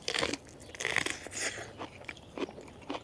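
Crisp, crunchy bites into freshly picked raw sweet corn, rinsed but uncooked: several loud close bites and chews in an irregular rhythm, separated by short quiet gaps, with no talking.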